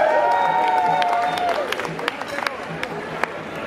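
A festival crowd at the Lorient interceltique festival claps and cheers continuously, with whistles and shouts rising over dense applause while a voice carries over the noise.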